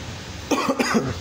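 Several quick, rough coughs in a row, close and moderately loud, over faint background hiss.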